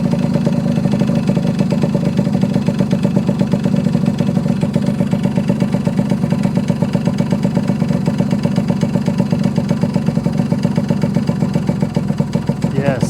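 A small 1974 Yamaha RD60 two-stroke motorcycle engine idles steadily and close by, with a fast, even putter throughout and no speech over it.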